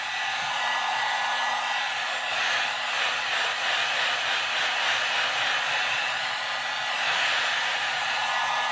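A heat gun blows a steady, loud, continuous roar while heat-setting paint on a flexible-tailed gizzard shad glide bait, holding even with no pauses and no talking.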